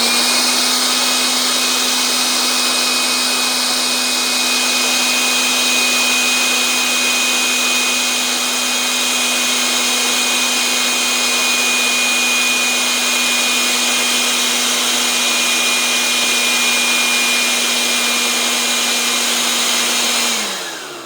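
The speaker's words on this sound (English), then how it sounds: "Here's the hairdryer with a fresh battery fitted, and I'll just switch it on so you can see what goes on." Battery-powered hairdryer blower with a fault, running on a fresh battery as a steady loud whir with a constant motor tone, close by and alone, then winding down at the end.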